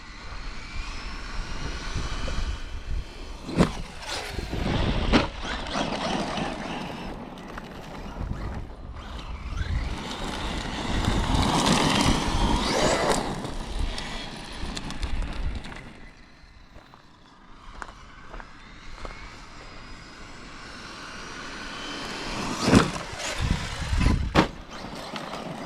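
Traxxas Maxx Slash 6s RC truck, running belted Terraform tires, whines and roars as it drives and jumps outdoors, the motor swelling and fading as it speeds off into the distance and returns, with sharp thumps from landings.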